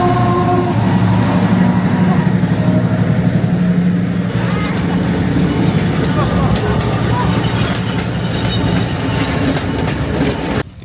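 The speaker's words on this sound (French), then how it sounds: "là le train il est passé." Train moving through a busy station in Sri Lanka, a steady loud rumble with rail clatter over nearly eleven seconds, crowd noise and voices mixed in throughout.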